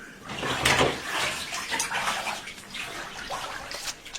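Bathwater sloshing and splashing as a woman scrubs herself in a tub, a continuous busy wash of watery swishes with a few stronger surges, close and steady with no voices.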